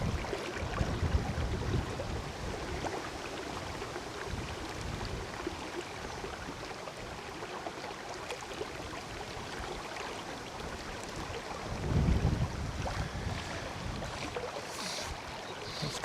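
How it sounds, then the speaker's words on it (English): Steady gusty wind roars over the River Vyrnwy on a windy afternoon of fly fishing, a continuous broadband rush with a brief louder buffet near the end and no talking. "God, this wind."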